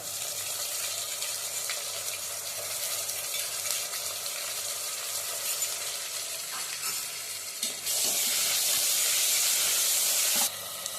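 Onions sautéing with ginger garlic paste in a pan for vegetable biryani, a steady dense sizzle throughout that swells louder and brighter for a few seconds near the end.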